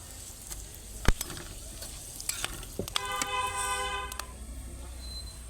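Whole garam masala sizzling in a pan for chicken dum biryani while being stirred, a low frying hiss with a few sharp utensil clicks and a brief tonal beeping in the background, no talking.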